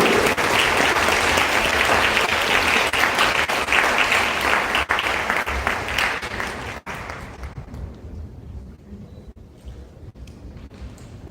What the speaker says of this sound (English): Let's have some applause for our best in academics for the stage.